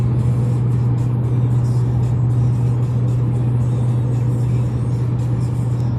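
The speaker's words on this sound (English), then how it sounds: "I just figured I'd give you a part of my drive home." A car driving home from town on a rural road, heard from inside as a steady, loud engine hum and road rumble that barely changes, with no voices.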